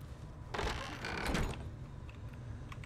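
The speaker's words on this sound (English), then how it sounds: "Close the door." A wooden door swings shut in the fantasy role-playing game Baldur's Gate, a soft sliding scrape followed by a muffled closing thud at moderate loudness, alone without speech.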